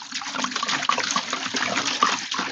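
Water poured from a container onto potted plants, chives among them, a steady splashing trickle running nearly the whole time with small spatters near one and two seconds.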